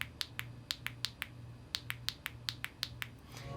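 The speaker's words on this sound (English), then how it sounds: "They do have a button, which is a little on the clicky side." Sharp, crisp clicks from the physical button on NS Series 10 earbuds, about a dozen quick presses in irregular pairs and singles, close and fairly quiet over a low background hum.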